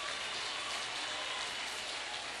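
A church congregation applauds, a dense and uniform patter of many hands that holds steady and soft throughout the short stretch, with no voices on top.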